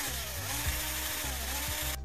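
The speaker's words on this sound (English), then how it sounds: "I then used this as a guide to drill holes through the other sticks." Power drill boring holes through wooden lolly sticks, a steady loud whine of the motor with brief bursts of bite as the bit cuts, stopping abruptly at the end.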